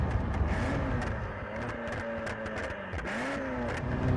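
A Ferrari F40 engine pulls at half throttle in fourth gear, a steady close rising drone with harmonic lines climbing in pitch, plus a brief dip and re-rise in revs near the end, heard alone without talk.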